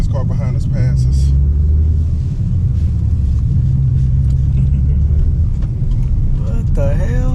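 A car passing from behind on the road alongside a 2010 Nissan GT-R, a heavy steady low rumble of engine and road noise throughout, with faint voices near the start and end.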